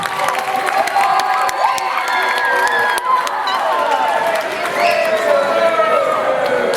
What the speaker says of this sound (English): Get a nice round of applause for Dr. Patrick,